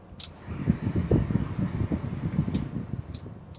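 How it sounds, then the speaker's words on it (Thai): Manual air conditioning blows through the cabin of a Toyota Commuter 3.0 automatic van, a steady fan-driven whoosh with faint clicks and rustles near the microphone. "เป็นแอร์แมนนวลนะครับแรงลมแอร์ฟังพร้อมกันคุณผู้ชม"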